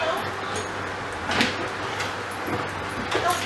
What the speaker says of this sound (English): Now we're going to close the door just for a second.